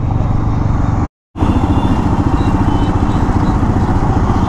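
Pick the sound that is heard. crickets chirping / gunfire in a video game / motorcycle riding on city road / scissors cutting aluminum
motorcycle riding on city road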